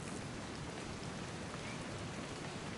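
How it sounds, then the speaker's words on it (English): Steady rain in the video game What Remains of Edith Finch, a continuous even hiss of falling drops that fills the space evenly, with no voices over it. "It's gonna rain the whole weekend, isn't it?"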